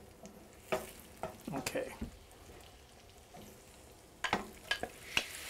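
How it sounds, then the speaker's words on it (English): Butter foaming in a hot pan while cooking seafood fettuccine, with a soft steady sizzle beneath scattered utensil clicks and stirring scrapes, and a brief word of speech. "As soon as that butter stops foaming, that'll be warm enough."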